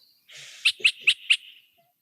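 A yellow-breasted chat calls from hiding in bushes, giving four quick, harsh, evenly spaced notes over a brief hoarse buzz, close and fairly loud with no talking.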